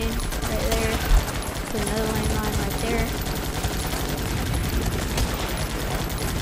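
Sustained automatic gunfire mows down waves of enemies in the video game Guns Up!, a dense, continuous rattle of shots mixed with battle noise and game music, loud throughout.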